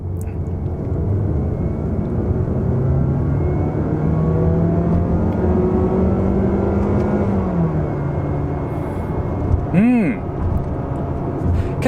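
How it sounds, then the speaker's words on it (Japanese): Inside a Mazda CX-30 gasoline mild hybrid (DM series) in manual mode, second gear, the engine pulls from 3000 rpm; a steady, rising engine note swells for several seconds, then drops with a gear change, followed by a brief sharp tone near the end. "マニュアルモード3速2速3000回転から踏んでいきます"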